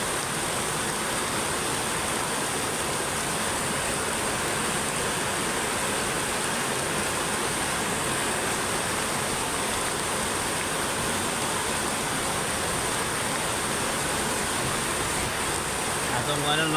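Steady, dense rain hisses evenly throughout, a continuous wash of noise with no breaks, loud and close.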